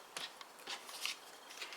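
Happy Label Punch trimming the end of a paper strip for a multi-fold card, a quick, soft, close crunch and rustle of paper with no talking.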